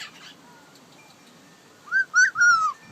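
A cockatiel gives a short run of clear, rising whistled chirps imitating other birds, three close bursts near the end after quiet room tone with faint background sounds.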